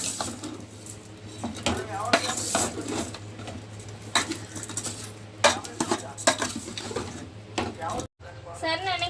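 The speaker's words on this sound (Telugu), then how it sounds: "ఒక కూరగిని తీసుకొని మొత్తం కలిసి" A ladle stirs mutton curry with turmeric in a pressure cooker, producing busy metallic clattering and scraping against the pot, loud and close, with a voice speaking at times over it.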